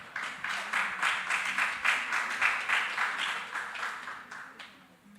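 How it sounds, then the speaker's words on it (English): A conference crowd at a Jamaica Teachers' Association education event gives a round of applause for leadership candidates. The dense clapping swells and eases in waves and stays fairly soft throughout. "I'm just going to ask you to give a round of applause to our candidates."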